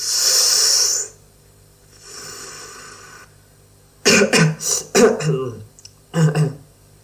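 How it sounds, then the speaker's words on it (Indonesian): Person coughing and clearing the throat after trying a grape-flavored vape, a hoarse breathy rasp followed by a cluster of sharp close coughs and a final cough burst, with quiet gaps between. "Kok aku batuk-batuk ya?"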